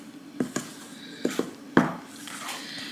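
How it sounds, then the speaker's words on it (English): Garlic cheddar biscuit batter mixed with melted butter in a bowl, heard as a spoon knocking and scraping against the bowl in about five sharp clicks at uneven intervals, close and clear with soft squishing between. "Now you want to mix all of that together."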